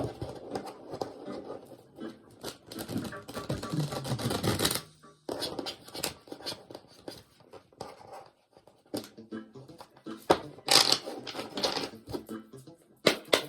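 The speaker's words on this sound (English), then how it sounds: "Let's give it a good shuffle and wake up the deck." Dense, rapid riffling and flapping of cards in bursts, close and fairly loud, with brief pauses between shuffles and a few sharp snaps near the end.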